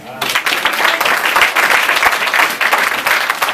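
A church congregation breaks into loud, sustained applause, with dense clapping from many hands filling the room, and voices mixed into the crowd.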